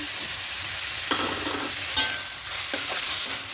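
Taro leaves with grated coconut stir-fry in a kadai, a steady close sizzle with occasional scraping spatula strokes cutting through, no voices.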